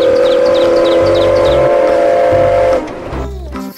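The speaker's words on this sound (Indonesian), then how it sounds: "Ada kereta Thomas." A toy Thomas train gives a bright, steady whistle for nearly three seconds beside a low chugging rumble, then cuts off into quieter clicks and rattles.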